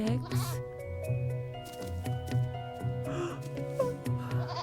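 Repeated cartoon sheep bleats from Harold and the Purple Crayon, several calls in a row over a steady musical background, fairly close and clear.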